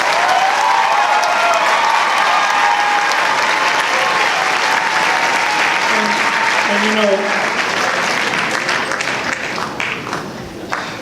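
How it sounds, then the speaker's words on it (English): A large crowd at a school jazz and marching band awards event gives volunteers a sustained round of applause, loud and dense throughout, with cheering and voices mixed in before it begins to thin toward the end. "Please give them one big round of applause."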